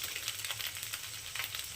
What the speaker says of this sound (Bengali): এবার এটাকে আমি একটু ভালো করে ভেজে নেব। 3 থেকে 4 মিনিট এটাকে একটু এইভাবে ভেজে নেব।